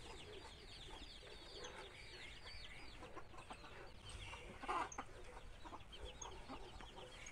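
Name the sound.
chicken clucking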